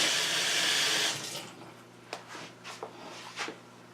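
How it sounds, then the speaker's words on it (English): Hands washed under a running kitchen tap, a steady rush of water for about a second, then the flow stops and a few faint drips and splashes follow. "let me just wash my hands"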